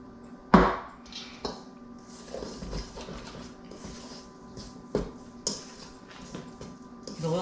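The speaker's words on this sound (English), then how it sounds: "Stirring with a fork" A fork stirring pie crust dough in a bowl, giving a few sharp clinks against the bowl amid soft, quiet scraping and mixing, with irregular gaps between strikes.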